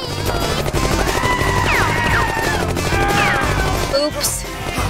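Rapid bursts of gunfire crackle through a loud animated attack scene, layered with music, whooshing effects and a crash, while voices speak over the action.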